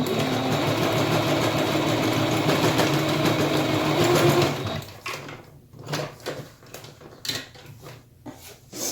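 A sewing machine stitches down a fabric face mask with a steady, close, loud whirring run for about four and a half seconds, then stops, leaving quieter handling and fabric rustles.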